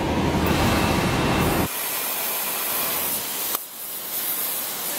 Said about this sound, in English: Fire off that torch and show them how that works.